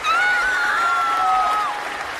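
Crowd applause, loud and continuous, with a long sustained high cheer or whistle riding over it that fades near the end.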